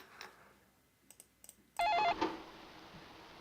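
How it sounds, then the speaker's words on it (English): An old home telephone at home rings with one loud electronic burst after a few faint clicks and taps, then the tone fades into room noise; no talking. "that was genuinely our phone"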